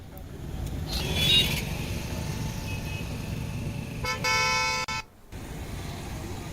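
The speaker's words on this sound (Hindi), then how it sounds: "चिल्ला बॉर्डर पर भीषण जाम भी लग गया है, गाड़ियां रेंग रेंग कर चल रही हैं" Heavy traffic jam at Chilla border with slow crawling vehicles, a steady low road rumble broken by a couple of short car horn toots, with a brief dropout near the end.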